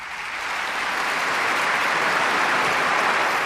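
A large audience applauds at a ceremony honoring Narges Mohammadi, a steady, dense wash of clapping that swells slightly and holds, with no voices standing out.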